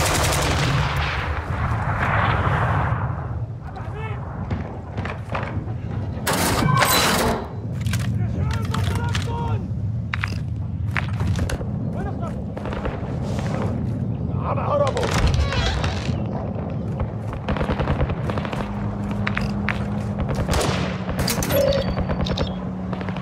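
Repeated gunfire in Call of Duty DMZ, bursts of automatic and single shots cracking loudly in clusters over a long stretch, with a player talking throughout.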